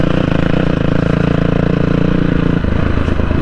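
A Crossfire XZ250RR motorcycle engine runs loud and close in a steady, throbbing idle, with a slight shift in tone near the end.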